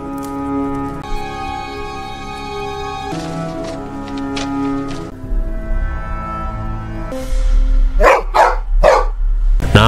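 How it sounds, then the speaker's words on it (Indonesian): A dog barks several times toward the outside, loud and close, the barks coming in a cluster near the end over a steady low hum and musical background. "si Acu terlihat menggonggong ke arah luar"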